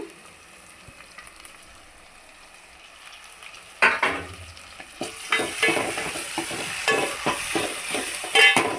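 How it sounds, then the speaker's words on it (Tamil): Chopped tomatoes are dropped into onions already frying golden in a pan, followed by stirring. A soft sizzle runs at first, then a sudden louder hiss on the addition, then close-up scraping stir strokes over continuous frying. "இந்த வெங்காயம் பொன்னிறமாக நல்லா வந்துடுங்க. இப்போது தக்காளி போட்டுக்கலாங்க."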